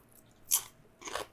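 Two crisp crunches from biting into a crispy mushroom taco, one sharp bite followed by a longer crackling crunch about half a second later, close and alone with no talk.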